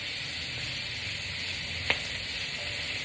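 Shrimp, cabbage, peppers and onions sizzling in a pan, a steady close hiss of frying with one brief clink partway through.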